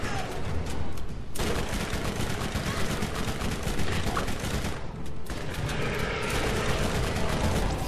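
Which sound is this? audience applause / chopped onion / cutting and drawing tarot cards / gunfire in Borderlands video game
gunfire in Borderlands video game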